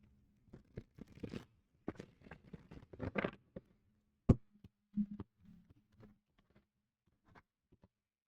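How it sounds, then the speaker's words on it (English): Tarot cards are shuffled by hand in quick, close riffles and soft slaps, arriving in short bursts with gaps between them and ending in a few lighter taps. "One more shuffle."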